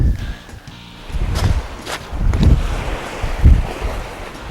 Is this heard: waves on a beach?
yes